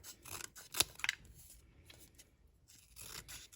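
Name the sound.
scissors cutting folded paper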